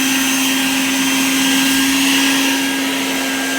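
A vacuum sucks sand out of a swimming pool's sand filter tank, a loud, constant roaring whine with a steady pitched hum throughout, close by and without speech.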